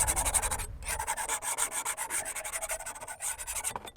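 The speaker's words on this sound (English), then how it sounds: "So just a quick scrape." Oil paint scraped from a canvas with a tool during evening plein air painting by the Helford River, a soft, steady rubbing scrape repeating in quick strokes, close and quiet with no talking.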